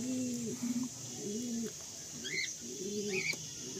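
Pigeon in a loft cooing repeatedly in low, throaty phrases, close by, with a few brief chirps from other birds and soft background hum.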